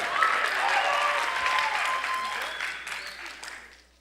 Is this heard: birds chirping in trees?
no